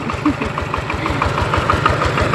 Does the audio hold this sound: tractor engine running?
yes